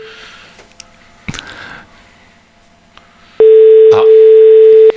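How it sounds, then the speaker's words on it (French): An outgoing telephone call rings out on the line, a steady loud electronic ring tone lasting about a second and a half after a quieter stretch of faint clicks and line noise. "Troisième sonnerie."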